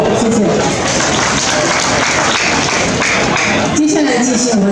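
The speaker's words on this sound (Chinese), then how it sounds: "大家如果没有意见，请拍掌通过" An audience at a clan association members' meeting applauds to approve a report, a dense, steady patter of many hands clapping that carries on for several seconds, mixed with crowd murmur.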